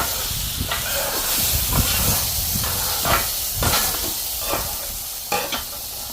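Water hissing and sizzling as it boils off a hot flat-top griddle, with bursts of steam and intermittent metal scraper scrapes pushing it toward the grease trap; close and steady with no talk.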